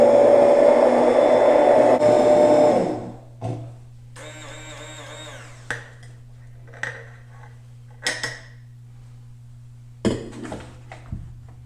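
Blender whirring at high speed through coffee with MCT oil and grass-fed butter for about three seconds, then stopping, followed by scattered clinks and light handling sounds.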